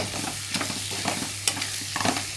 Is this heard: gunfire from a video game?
no